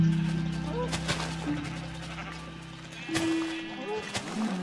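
Sheep bleat in the Minecraft video game, a couple of short faint calls over a low steady in-game hum and background noise, with a person talking faintly.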